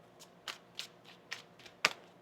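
Tarot cards shuffled by hand during a reading, giving a series of separate crisp riffling snaps, five or six in a little over two seconds, close and fairly quiet, the last one the sharpest and loudest.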